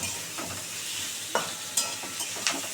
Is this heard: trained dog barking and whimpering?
no